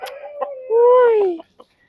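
A chicken gives a short series of clucks, a drawn-out squawk and a couple of trailing clucks, close and clear against a quiet background.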